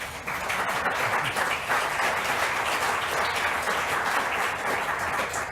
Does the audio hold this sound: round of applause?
yes